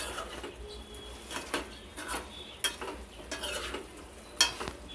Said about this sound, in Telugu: ములక్కాయలు వేసుకుని ఒకసారి కలుపుకుందామండి